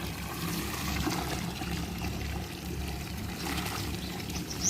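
Water pours steadily onto dry soil around a newly planted sapling, a soft continuous trickling and gurgling heard close by and fairly quiet, with no talking.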